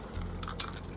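Car keys jangle in a hand, a short bright metallic rattle of several clinks over about a second, close and fairly loud with no talking.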